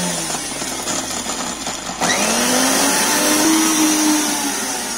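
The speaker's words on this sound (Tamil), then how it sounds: "ஒருவேளை மிக்சி சூடாற மாதிரி இருந்துச்சுன்னா கொஞ்சம் ஓபன் பண்ணி விட்டுட்டு அதுக்கப்புறமா அரைங்க" An electric mixer grinder grinding soaked urad dal into vada batter, a loud steady motor whine with rising pitch as the load shifts, running continuously from start to finish without talk.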